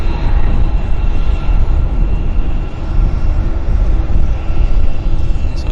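An Air Canada airliner rolls down the runway for takeoff at Vancouver International Airport, a heavy, continuous jet roar and rumble that stays loud and close throughout, with no talking.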